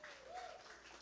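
A church congregation applauds during a service, a short burst of dense clapping at moderate volume with faint voices underneath.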